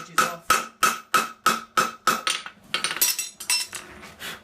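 Blacksmith hammer blows ring on an anvil while forging a fullered front, a run of about seven evenly spaced metallic strikes followed by quicker, lighter overlapping taps, close and clear with no talking.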